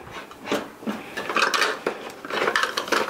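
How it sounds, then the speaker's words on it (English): A tablespoon being pulled from a drawer of cutlery in a home kitchen during keto batch cooking, with several close, bright metallic clinks and rattles spread over a few seconds. "Now, let me get a tablespoon."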